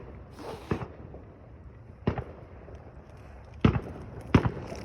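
Fourth of July fireworks go off in Michigan, four sharp distant bangs spaced irregularly over a low rumbling outdoor background, with no talking.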